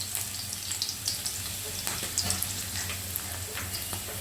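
Garlic and green chillies fry in hot oil with a steady, soft sizzle and crackle running evenly under faint background hum; no one speaks.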